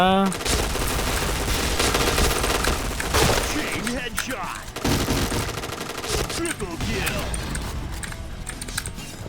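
Rapid automatic gunfire in a Thai-server Point Blank first-person shooter match crackles in dense bursts broken by brief gaps, with a player talking over the shooting.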